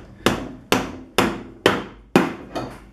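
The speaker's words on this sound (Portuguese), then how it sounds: "vocês vão pegar um martelinho de borracha aí para descolar a tampa" A rubber mallet strikes the rear cover of a BMW E36 3 Series limited-slip differential to loosen it, six close, loud thuds at a steady pace with short decaying rings.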